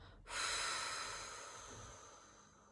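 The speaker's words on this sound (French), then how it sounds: "Et vous soufflez par la bouche" A long, steady exhale blown out through the mouth during a children's relaxation breathing exercise, rising suddenly to a strong breathy hiss and then slowly fading over a couple of seconds, close and alone.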